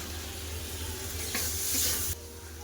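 Meat and potatoes sautéing in a pan with tomato and salt give a steady, close, fairly loud sizzling hiss that briefly swells before easing back, with no voices.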